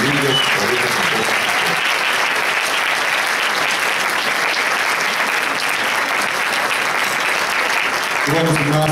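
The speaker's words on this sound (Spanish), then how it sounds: "les regalen un fuerte aplauso a todas esas personas que los han apoyado en el curso de su carrera" Loud sustained audience applause fills the hall at an arts school graduation ceremony in 2010, dense and steady throughout with a voice briefly audible at the end.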